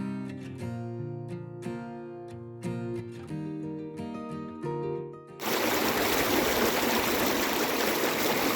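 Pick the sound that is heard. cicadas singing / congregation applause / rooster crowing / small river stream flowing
small river stream flowing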